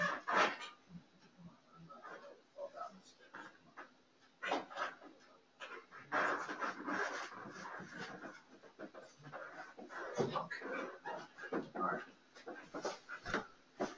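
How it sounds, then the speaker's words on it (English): A dog having a seizure at the top of a staircase, with continuous close panting, rustling and thrashing movement and faint whimpers, while a person talks over it. "my dog's having a seizure and she's right at the top of the stairs"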